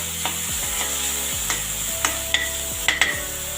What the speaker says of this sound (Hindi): प्याज भुन गई है